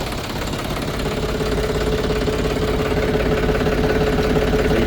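John Deere 1741 tractor diesel engine idling steadily after starting, a continuous close rumble with a faint knocking texture, holding constant loudness throughout with no talk.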